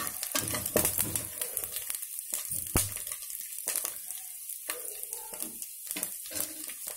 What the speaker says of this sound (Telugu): కొబ్బరి ముక్కలు ఇలా వేయించుకుంటే చూసారు కదా అది కూడా బ్రౌన్ కలర్ వస్తుంది